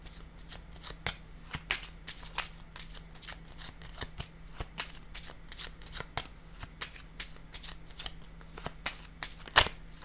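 A deck of tarot cards is shuffled by hand, giving a quick run of soft riffling snaps and flutters in irregular rhythm, close and fairly quiet, with no speech.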